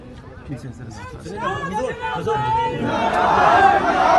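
A crowd raises its voices in chanted slogans, several voices calling out together over crowd chatter at first, then swelling into a louder, denser roar of shouting toward the end.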